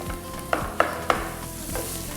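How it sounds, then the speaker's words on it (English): Ground meat frying with onions in a pan for queso fundido, sizzling steadily up close while a wooden spoon scrapes and stirs in three distinct knocks. "now we add in our meat. So the meat goes in, just break it down with your wooden spoon"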